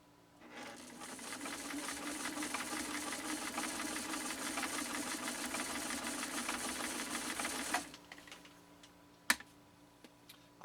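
A 1972 Kenmore 1318 sewing machine runs steadily for about eight seconds, stitching through two layers of elk hide with a fast, even mechanical clatter, then stops, leaving a few faint clicks and handling sounds.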